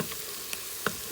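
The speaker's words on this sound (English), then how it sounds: "Sorry for the loud sizzling, but I have 2 onions chopped up" Two medium onions, chopped, frying and sizzling in a pan of butter, a steady close crackling hiss with a couple of sharp pops.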